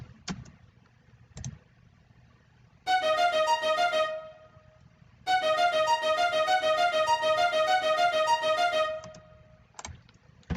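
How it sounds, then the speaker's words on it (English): Short, rapid staccato string notes play in two bursts, a clipped pulsing pattern with a pause between, over a low rumbling background. "the All Strings Staccato are playing"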